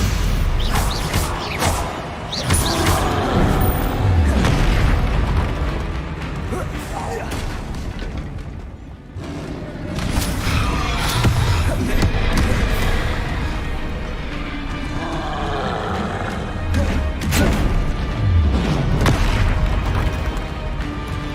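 Spell combat in Hogwarts Legacy, including Stupefy casts: dense booming magical impacts, bursts and crashes over a continuous game soundscape, loud and near, with a voice speaking at times.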